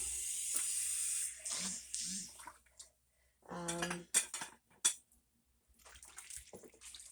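Dishes and cutlery washed by hand in a home kitchen: clinking plates and rattling silverware, bursts of running water, close and moderately loud in separate clusters.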